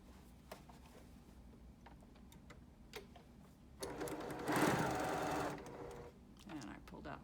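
A sewing machine stitches quilt pieces in a single steady, fairly close burst of a couple of seconds, preceded by quieter handling noises and a little talk.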